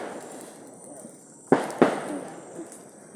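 Two sharp firecracker bangs burst close together at a New Year celebration, each a loud crack with a brief ringing tail, over a quieter outdoor background.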